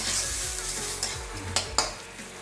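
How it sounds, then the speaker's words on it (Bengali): Gobindobhog rice fries in a wok with a constant sizzle, while a spatula stirs and scrapes in quick passes and clacks sharply against the metal a few times near the end. No one speaks. "ছয় থেকে 7 মিনিট মতো ভেজে নেবে চালটা।"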